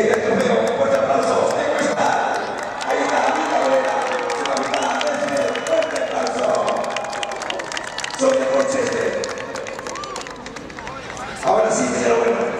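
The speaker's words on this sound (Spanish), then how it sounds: "Ahora viene el cheque y el trofeo. Fuerte aplauso." Crowd cheering and applause at the trophy and prize-cheque presentation of the 2015 Copa Heineken final, a loud, continuous roar of voices and clapping that swells again near the end.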